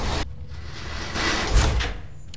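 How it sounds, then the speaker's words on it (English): A heavy vault door unlocks and swings open in Fallout 3, beginning with a sharp mechanical clunk and followed by a loud, sustained hiss and rumble of sliding metal that swells and then settles. "Unlock door."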